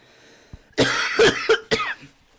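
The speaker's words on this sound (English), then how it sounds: "Why am I coughing?" A burst of harsh, close coughing, three or four rough hacks in quick succession, then quiet.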